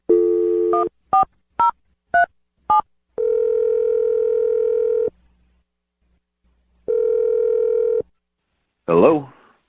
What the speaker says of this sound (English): So we're going to dial the phone number right now.